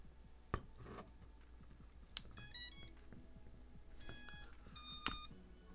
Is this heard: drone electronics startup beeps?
yes